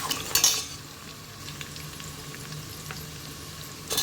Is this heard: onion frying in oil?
yes